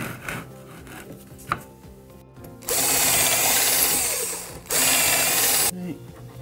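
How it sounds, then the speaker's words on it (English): A power drill boring pilot holes into pallet wood for a handmade chair, two loud whining bursts of about two and one seconds, preceded by quieter handling knocks and clatter. "Drill some pilot holes."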